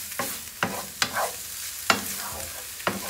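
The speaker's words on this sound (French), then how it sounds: "je m'ajoute les pieds de champignons émincés. Et je mélange." Sliced mushroom stems stirred in a hot pan, with about six sharp utensil scrapes at uneven intervals over a soft, continuous sizzle.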